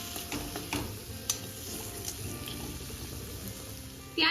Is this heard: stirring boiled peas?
yes